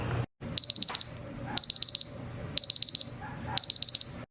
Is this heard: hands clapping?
no